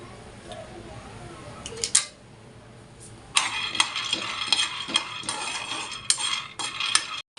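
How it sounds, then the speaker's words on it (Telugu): Peanuts roasting in a hot kadai: quiet scattered clinks at first, then a dense, close rattle and scrape of nuts being stirred against the metal pan, continuing steadily to the end without talk. "కొద్దిగా వేయించి కడాయి వేడెక్కిన తర్వాత పల్లీలు వేయించుకుందాము"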